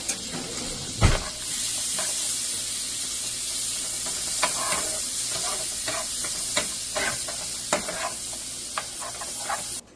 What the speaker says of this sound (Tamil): இந்த கேஷ்யூ நட்ஸ் வந்து இந்த பட்டர்லயே நல்லா வந்து ஃப்ரை ஆகணும்.